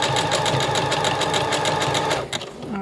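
A sewing machine stitches coiled rope for a handmade rope bowl, running in a fast, even burst of stitches close by, then stopping abruptly just before the end.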